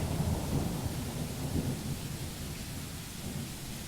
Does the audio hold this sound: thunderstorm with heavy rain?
yes